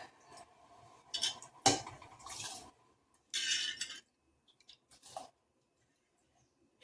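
Rice poured into a pot of boiling water, heard as a few short, quiet rattling bursts separated by near-silence.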